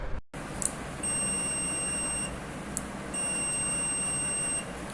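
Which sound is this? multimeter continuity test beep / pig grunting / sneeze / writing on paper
multimeter continuity test beep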